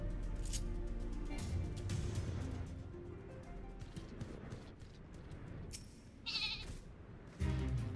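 Sheep in Final Fantasy XIV bleat briefly over quiet in-game ambience and music, a short nasal call near the end standing out against the low background.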